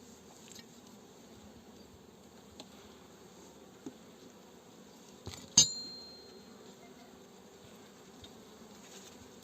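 Honey bees at an opened beehive during a brood check, giving a steady low buzz with occasional single bees droning past, and a sharp clink of hive tools about midway.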